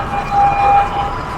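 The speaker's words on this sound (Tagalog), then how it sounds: "Tapos may ambulansya pa sa likod." A faint siren tone wavers over steady street noise and car traffic during a Chinese New Year crowd in Binondo, lasting only a moment and fairly distant.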